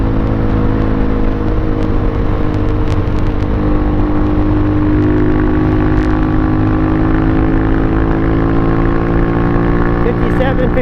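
A Pitsterpro XTR250 dirt bike engine drones near full speed uphill on knobby tyres, a loud steady buzz whose pitch slowly climbs, with wind buffeting throughout.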